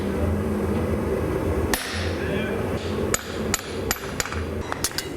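A hammer strikes a chisel on hot steel while forging a hunga munga African throwing knife, a series of sharp metallic clanks speeding up over a steady roar of background noise.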